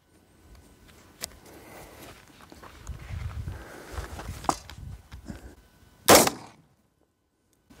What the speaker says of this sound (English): So now we're going to do another green tip shot.